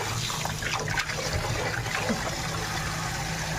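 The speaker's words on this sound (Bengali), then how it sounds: "আর এই যে মাছগুলো ধুচ্ছে" Running water splashes steadily while fish such as silver carp and rohu are washed, a continuous, fairly close gush and trickle with no pauses or talk.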